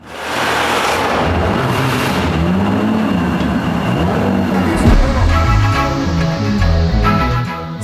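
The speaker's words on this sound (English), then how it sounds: "They're low, the wheels are tilty, and they make noises that cars don't normally make." A stanced car, lowered with tilted wheels, drives past with a loud, continuous engine rumble and whooshing road noise that swells and holds steady for several seconds, with no talking.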